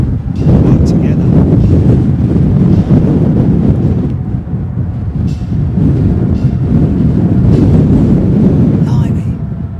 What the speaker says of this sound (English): it's a proper flipping headwind, man. I'm telling you, that's strong.